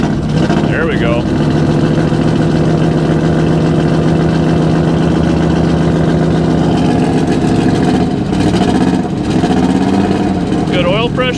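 A classic car engine with a misfire idles loudly and steadily close by, its uneven churning running throughout while voices speak briefly near the start and end.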